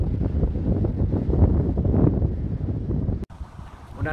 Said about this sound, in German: Ich hoffe, man versteht überhaupt irgendwas bei dem Wind.